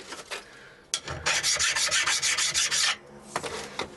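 A hand tool scrapes across the drilled edges of metal to deburr them, a close, rough rasping stroke lasting about two seconds between shorter scrapes before and after.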